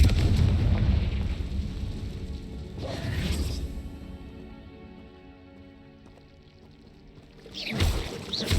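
A Confringo fire spell explodes in Hogwarts Legacy, a heavy booming blast at the start that fades into a ringing, humming tail, followed later by a second sharp burst.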